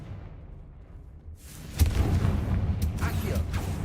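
The Confringo explosive spell from Hogwarts Legacy goes off as a sudden booming blast after a quiet lead-in, followed by rumbling impacts and debris noise.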